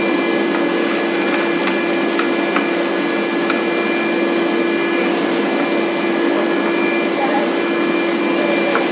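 A DeWalt cordless vacuum cleaner with a hose attachment runs steadily, with a loud, constant whine close by.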